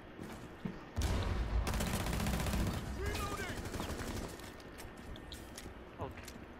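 Rainbow Six Siege gameplay gunfire, a dense burst of rapid shots lasting a couple of seconds and followed by scattered game noise, with players talking over the action.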